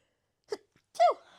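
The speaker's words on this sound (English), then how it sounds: "I'm going to sneeze." A single sharp sneeze, a quick intake followed by a loud explosive burst, close by with silence around it.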